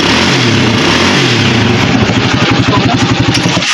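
A Rusi 125 motorcycle with a weak stator output runs after starting, its engine putting out a loud, steady low putter that settles into a rapid regular pulse, close by with no talk over it.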